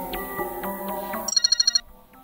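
A telephone ringing as a call to the police is placed: a repeating electronic ringback tone with evenly spaced pulses, then a short burst of rapid high beeps before it cuts off, fairly quiet and without speech.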